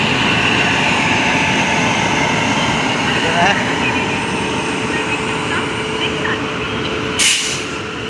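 A train rumbles steadily with a broad, continuous roar, close and loud, with a brief hiss of air near the end; no clear speech.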